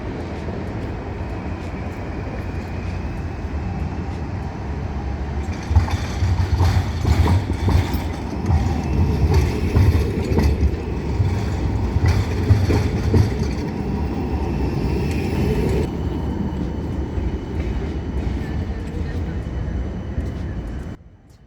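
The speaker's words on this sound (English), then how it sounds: "Here is a prime example of Budapest's incredible rolling stock with the ability to traverse tight turns and" A Budapest tram rolls through tight turns at a city intersection with a steady rumble and rhythmic clatter of wheels over rail joints, growing louder midway before easing off; a voice talks over it.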